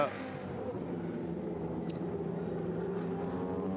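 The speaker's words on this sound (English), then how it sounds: "Lotus 97T, car designed by lovely Frenchman Gerard Ducarouge" A Lotus 97T Formula One car, designed by Gerard Ducarouge, drives around Monaco with a steady high-pitched engine drone held throughout, close and loud.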